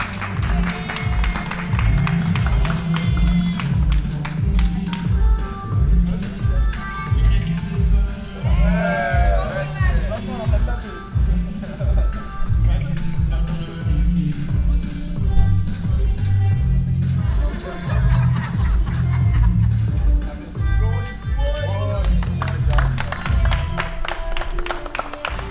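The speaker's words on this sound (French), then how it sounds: "un tonnerre d'applaudissements à lui" A crowd at a house-competition show claps and cheers, with steady rhythmic applause running throughout, the claps falling in a regular beat beneath shouting voices and babble.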